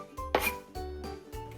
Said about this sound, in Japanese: トマト切ります。